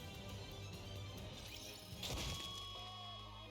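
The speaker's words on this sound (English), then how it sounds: "Why are you smashing up a perfectly good guitar?" A guitar is smashed in the Goddess of Victory: NIKKE video game, a heavy crash and crunch of impact heard once over steady, dense background music.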